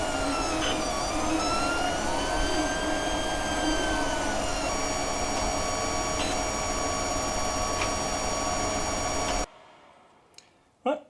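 A steady whirring hum with whining stepper tones comes from an Anycubic i3 Mega 3D printer running, continuous and fairly loud, then cuts off near the end, leaving a couple of faint knocks.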